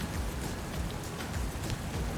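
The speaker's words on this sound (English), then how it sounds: "It's probably acid rain, but it is raining." Rain falls in a factory-building video game as a steady, faint hiss of drops, even and unbroken throughout.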